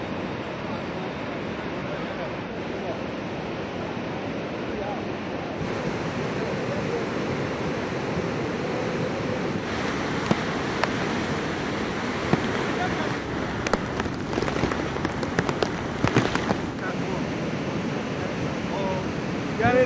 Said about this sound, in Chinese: 河水，冲击在河床冲击的声音